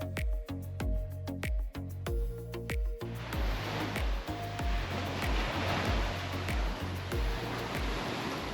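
Ocean surf on a Koh Rong island beach in Cambodia, a broad continuous wash of breaking waves that swells up after a few seconds of rhythmic thumping, close and steady with no talking.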